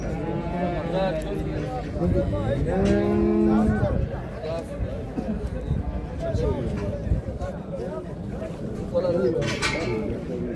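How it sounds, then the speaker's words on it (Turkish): A cow lets out one long, loud moo amid a bustle of people talking and other livestock noises at a cattle market in Sungurlu, Çorum, Turkey. "Kimin bu inek acaba?"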